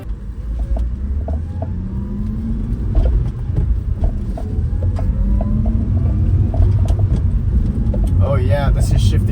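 A 1995 BMW E36 325is with a newly installed Factory 616 shifter drives along, its steady engine and road rumble continuous and close throughout, with small interior rattles and a brief chirpy sound near the end.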